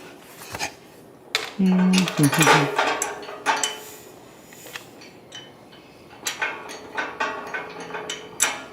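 A washer, crush nut and nut rattle and clink against metal as they are threaded onto a running board bolt on a Rivian R1S/R1T, with a short tonal ring and a series of light metallic taps.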